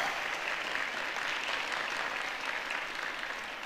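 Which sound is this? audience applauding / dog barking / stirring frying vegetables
audience applauding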